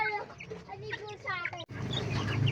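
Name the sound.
Jersey Giant heritage chickens clucking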